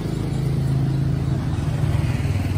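A motorcycle fitted with an aftermarket AHM Malaysia-style exhaust rumbling steadily up close, a deep, loud, throbbing engine note that holds fairly even throughout.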